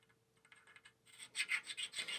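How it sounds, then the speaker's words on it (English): Abrasive rasping as the face grooves of a golf club are sharpened with a groove tool, starting faint and growing into louder repeated scraping strokes in the second half, with no talk. "Now I'm going to take it and do some sharpening and see what the difference is here."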